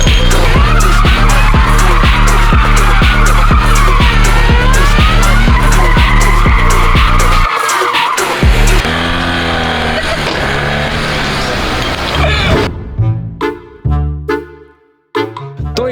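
Car spinning its tyres to warm them up at an amateur racing event, loud continuous tyre squeal over a pulsing, revving engine. It eases into a rougher roar, then falls to choppy, intermittent squeals.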